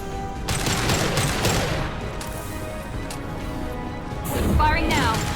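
Gunfire and crashing impacts from combat in the Mass Effect 2 video game, dense and continuous, with a sharper burst near the end and voices mixed into the battle.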